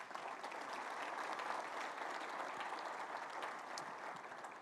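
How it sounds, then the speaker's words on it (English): Sustained audience applause at a regional leadership celebration event, a steady dense wash of clapping at moderate distance that holds evenly for several seconds. "Let's give them a round of applause."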